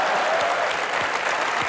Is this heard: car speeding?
no